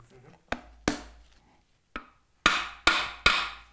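A soft-faced hammer taps a Triumph TR4 engine's cylinder head in a workshop: two sharp knocks, a lone fainter one, then three firm evenly spaced blows, each ringing briefly before fading, with no talk over them.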